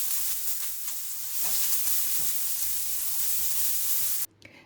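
Onions with a pinch of salt and pepper hit very hot oil in a pan, giving a loud, constant close-up sizzle that runs unbroken and then stops abruptly just before the end.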